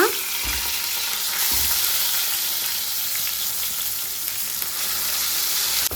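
Ground drumstick leaf chutney paste fries in a hot pan, giving a steady, close sizzle that sounds alone with no talk, and a few faint thumps come from stirring.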